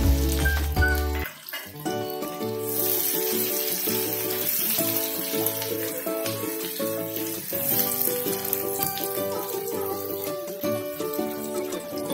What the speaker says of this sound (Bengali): সেগুলো এবার আমি ঘিয়ের মধ্যে খুব ভালো করে ফ্রাই করে নেব।